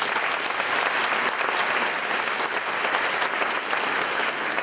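Audience applause at an opening ceremony, a steady, even wash of many hands clapping with no voices over it.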